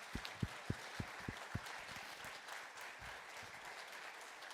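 Senators in a legislative chamber applaud a Glendale police officer. A few distinct claps sound close at the start, then the applause settles into a soft, steady patter.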